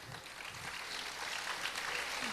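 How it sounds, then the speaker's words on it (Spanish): A church congregation applauds quietly in a brief burst of dense clapping that is heard alone. "Vamos a darle un aplauso al Señor por el matrimonio"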